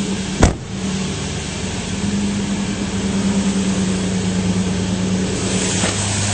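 A 2003 Toyota 4Runner SR5 Sport 4WD with a V8 engine idles smoothly under the open hood, a steady low hum after a single sharp click at the start, with no talking.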